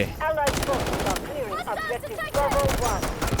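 Pistol gunfire in the shooter Delta Force, rapid close shots in quick bursts with a short gap, loud and punchy, with excited talking over the shots.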